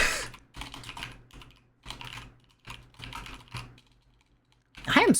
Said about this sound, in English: I am struggling to type today.